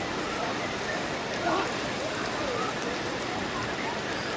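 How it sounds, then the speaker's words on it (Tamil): Beside a river at the Pinnawala Elephant Orphanage in Sri Lanka, a shower used to bathe elephants sprays water in a continuous hiss, like steady rain on a surface, heard at a moderate distance. "இந்த ஆற்றுக்கு பக்கத்தில் பாருங்க ஒரு ஷவர் ஒன்று இருக்குது."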